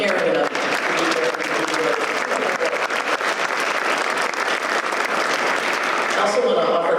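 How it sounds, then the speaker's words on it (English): Sustained applause from an audience at a partnership's annual meeting, dense and steady clapping filling the room for several seconds before tapering slightly at the end. "Please give yourselves a round of applause for caring enough to be here."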